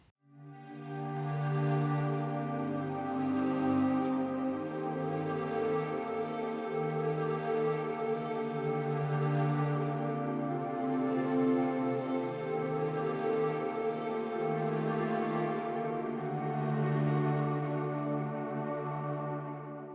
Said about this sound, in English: These Arctic swells play at the intro of the song and they sound like this.